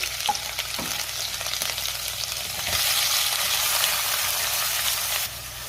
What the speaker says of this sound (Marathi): त्यातच आपल्याला कुटलेलं आलं लसूण घालायचे आणि लगेचच मी कांदा घालणार आहे।